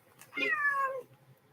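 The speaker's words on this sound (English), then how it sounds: "Now you're purring." Pet cat giving a single close, rising-then-falling meow of about half a second, followed by a faint low murmur, with no voices over it.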